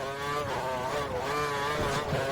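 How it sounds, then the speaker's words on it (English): A racing car engine from F1 2013 screams at full revs, a loud, high harmonic whine rising and falling in pitch continuously for a couple of seconds. "He's running full revs, maximum power."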